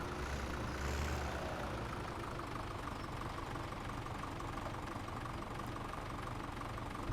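A tractor engine idles in Farming Simulator 17, a steady low rumble with a faint knock that holds evenly throughout with no talk over it.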